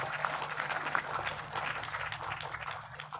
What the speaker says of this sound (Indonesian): Tepuk tangan yang meriah untuk Dokter Winda Olivia Panjaitan.